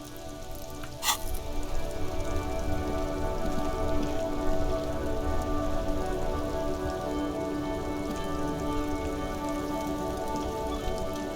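Steady rainfall in the video game Disco Elysium, an even patter on surfaces throughout, with a brief sharp click near the start and no speech.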